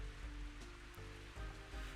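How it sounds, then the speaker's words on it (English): Steady soft rain layered into background music in Mario Golf 64, a faint even hiss under a quiet looping tune. "Oh man, the sound of rain to this song is depressing."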